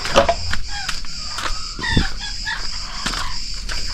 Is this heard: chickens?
yes